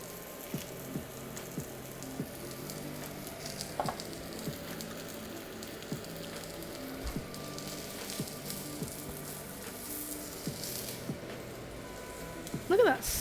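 Oyster mushroom vegan steaks sear in a hot pan with a steady, close crackling sizzle throughout, plus a brief louder clatter near the end.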